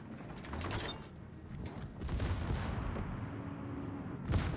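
Battleship secondary guns firing in World of Warships, a run of mechanical bangs and clanking reports over a steady low engine rumble, close and fairly loud.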